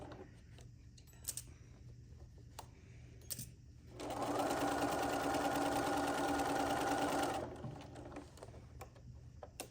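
A sewing machine stitches a cross stitch pillow with a steady, loud whirring run of about three seconds, framed by quieter handling clicks and rustles before and after.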